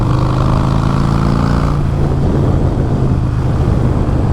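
A Harley-Davidson Iron 883 motorcycle rumbles steadily while being ridden, its engine loud and constant, with an audible shift in its pitch partway through and wind noise underneath.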